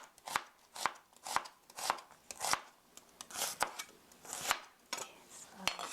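A knife slicing an onion thinly on a cutting board, crisp evenly spaced chops close to the microphone, about a dozen in a steady rhythm with faint background sounds.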